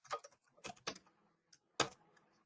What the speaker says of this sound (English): Typing the same thing there